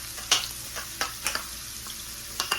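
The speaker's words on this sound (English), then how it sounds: "that onion and stuff that I cut up from earlier, I'm just gonna toss them in." Chopped onion tossed into a hot pan, a steady close sizzle and fry with a few sharp spits and clatters from the pan.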